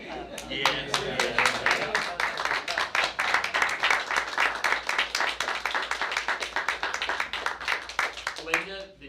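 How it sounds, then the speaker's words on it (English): A school board meeting audience applauds, with a dense run of claps close by that swells and then thins out near the end, while voices talk over the first part. "Well, I think we all ought to clap for both of them."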